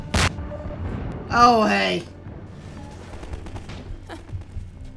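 Gunfire in the video game Half-Life 2 Episode 2: a sharp shot, then a burst of rapid fire with a ringing, whining tail, and scattered later impacts, under a brief exclaiming voice.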